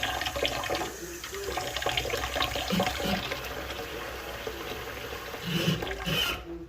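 Tap water running into a pan, a steady hissing splash with faint clinks, moderately close and continuous.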